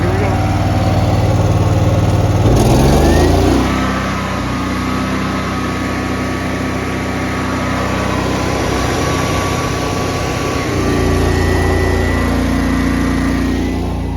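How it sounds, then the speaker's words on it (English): A Honda EU11000 generator runs on natural gas, a steady close engine drone that shifts in pitch and loudness as the load comes on, staying continuous throughout. "So I'm going to spool this generator up, turn the load on, and measure the current"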